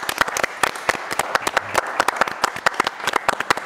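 Audience applause at a TV show taping, brisk close claps in a quick irregular rhythm, fairly loud and without talk.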